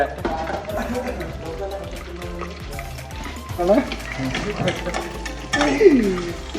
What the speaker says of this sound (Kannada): ಈರುಳ್ಳಿ ಸ್ವಲ್ಪ ಈರುಳ್ಳಿ ಗೋಲ್ಡನ್ ಕಲರ್ ಬರೋಂಗೆ ಫ್ರೈ ಮಾಡ್ಕೊರಿ.